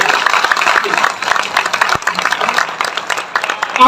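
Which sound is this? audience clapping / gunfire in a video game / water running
audience clapping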